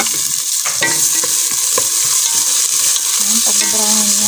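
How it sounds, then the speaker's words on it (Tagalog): Onions and garlic browning in a pan for adobong dilaw, a loud, steady, close sizzle with light clicks of a utensil against the pan scattered through it, no talking. "Ayan, pag-brownin natin yung ating sibuyas"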